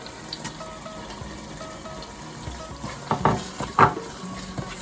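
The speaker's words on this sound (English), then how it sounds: "this onion and the other ingredients have been frying here for some time. We're going to give it a stir" Onion and other fish stew ingredients frying in a pot, with a low steady sizzle broken by two short bursts of scraping as the mixture is stirred near the end.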